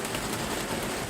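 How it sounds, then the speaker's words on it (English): Rain starts falling again in a garden, a dense, even hiss of drops on leaves and ground, close and constant for a short moment with no voices. "And here's the rain coming on again."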